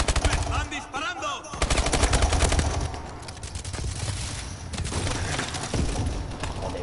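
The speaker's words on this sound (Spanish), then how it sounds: "¡Me están disparando!" Video game gunfire from a close-range firefight, dense rapid automatic shots rattling continuously and loudly for several seconds, overlapping and layered, with no distinct talk over them.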